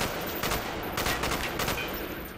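Python revolver gunshots in Black Ops Zombies, a dense run of sharp game gunfire blasts over a steady background din of game sound, with no talking.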